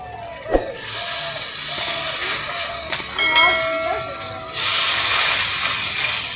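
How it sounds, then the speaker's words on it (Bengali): Food frying in a pan on a home cooking fire, a steady loud sizzle and hiss that swells after a brief knock near the start, continuing without talk. "আমি ভেজে নিচ্ছি"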